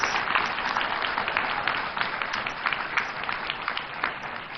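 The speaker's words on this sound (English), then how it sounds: "Round of applause." Audience applause at a Ghanaian art and dance performance during a West African development policy event, a steady dense wash of clapping lasting throughout without pause.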